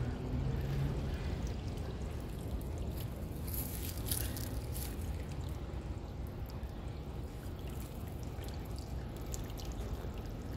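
Water trickles and flows steadily over coriander plants growing in sand, a soft, continuous wash with no voices.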